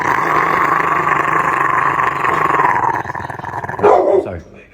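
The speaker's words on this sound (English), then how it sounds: "Bark at your dog." A dog growls and barks close by in a home, rough and continuous for several seconds before breaking into a sharper outburst near the end.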